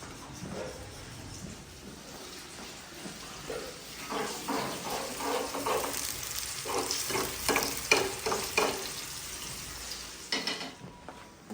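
Onions fry in hot oil for a tadka, a soft sizzle that grows louder, with bursts of stirring and scraping in the pan during the middle stretch and no talking.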